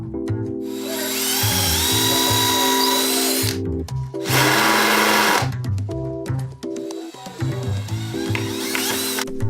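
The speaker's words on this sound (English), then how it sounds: "Then drill, countersink, and screw the front in place." Close, loud bursts of a power drill boring and countersinking holes in the wooden front panel of an arcade cabinet, separated by stuttering, pulsing runs of the driver sinking screws.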